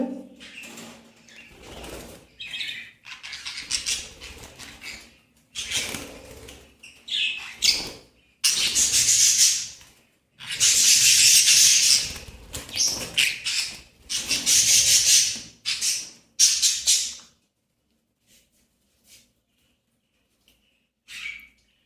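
Caged birds being caught flap their wings in loud, bursty flurries with scattered squawks and chirps, the commotion stopping abruptly and leaving near silence at the end.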